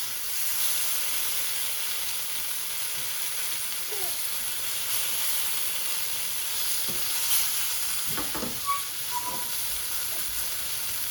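Leftover curried lamb heats in a pan with a continuous, even sizzle and hiss, joined near the end by a few faint scraping stirs, with no talking.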